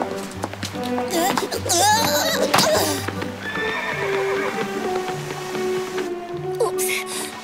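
Toy horses in a Polish Playmobil princess cartoon whinny and neigh loudly several times over rhythmic clip-clopping hooves, with a musical score underneath.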